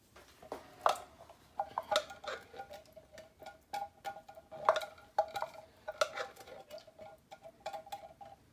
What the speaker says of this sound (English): So just kind of stir that around.